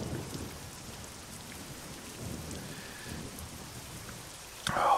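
Steady rain pouring in a thunderstorm in the truck-driving game Euro Truck Simulator 2, a constant hiss with low rumbling swells of thunder and a sharper burst at the very end.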